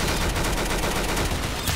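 Rapid shotgun gunfire in the Roblox game Arsenal, a dense run of loud, closely spaced blasts filling the whole moment with no voices over it.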